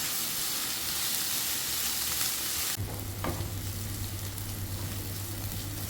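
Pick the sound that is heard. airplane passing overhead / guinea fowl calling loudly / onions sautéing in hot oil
onions sautéing in hot oil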